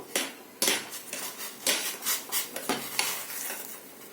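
Boiled vermicelli is strained into a vessel, with close clattering of metal utensils and scraping and stirring noises in irregular bursts and no talking.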